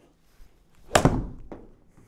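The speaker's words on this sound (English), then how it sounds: "So if I just hit one shot for you so you can see it, just a punch shot" A golf club strikes the ball in a single crisp punch shot, a sharp impact followed by a brief softer thud, heard alone with no talk.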